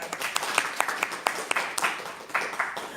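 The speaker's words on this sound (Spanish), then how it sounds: "Aplausos." Applause from a church Bible study gathering, a steady patter of many hands with sharper individual claps popping out, fairly close and moderately loud, with no talking over it.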